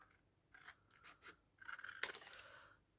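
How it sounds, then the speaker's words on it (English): Scissors snip paper while an Easter basket is being cut out, giving a few quiet close cuts followed by a longer, louder snip. "Just snip out that bit."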